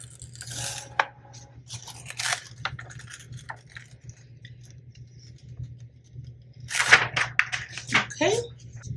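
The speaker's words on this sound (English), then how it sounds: "It looks like it's peeling off." Heat press transfer sheet peeled off a pressed blank by hand, a few short crackling, tearing rustles, the loudest burst near the end, with quiet stretches and a steady low hum beneath.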